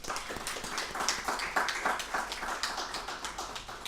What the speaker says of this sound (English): let's give a big clap to the Palestinian Solidarity Campaign